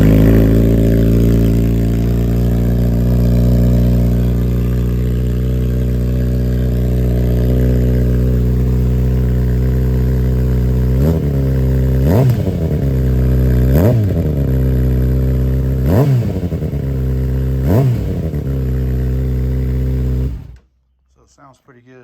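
A 2022 Kawasaki ZX6R fitted with an M4 Street Slayer exhaust idles steadily up close, then blips through four sharp revs in a row before the engine cuts off abruptly.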